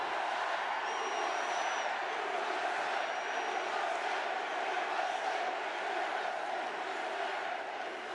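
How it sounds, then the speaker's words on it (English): A large crowd at a Donald Trump campaign rally in Montana roars and cheers in a continuous wash of voices, steady and fairly distant, with a few faint whistles rising above it. "This is a big crowd."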